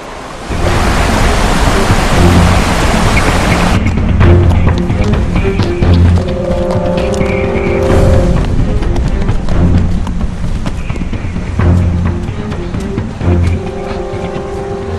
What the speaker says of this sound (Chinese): 听，这是何处来的水声？